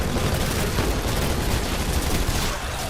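Arc grenades and mag launcher fire in the multiplayer shooter Titanfall, a dense continuous barrage of loud crackling blasts and impacts, with no voices over it.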